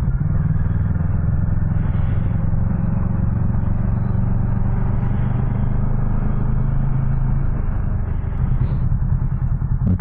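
Motorcycle engine idling while stopped in a traffic jam, a steady low rumble with faint clatter, continuous and close, with wind noise over it.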